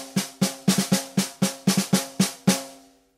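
A drum, likely a snare, plays a double stroke roll exercise with the first 16th note partial bounced, giving sharp strikes in a pattern of single hits and quick doubled pairs, crisp and close, ringing out at the end.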